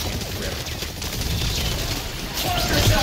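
Rapid gunfire in the video game Exoprimal crackles continuously amid dense battle noise, with game voice lines and effects layered over the shooting.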